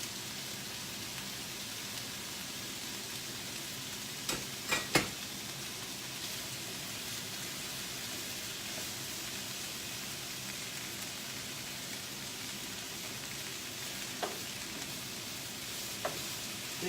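Vegetables for pasta primavera cook in olive oil in a pan with a faint, steady sizzle and a few sharp crackles and pops, no talk.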